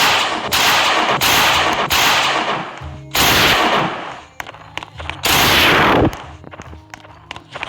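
Gunfire from a video game's shotgun and other weapons comes in several loud, sharp bursts with short gaps between them, and no voices are heard.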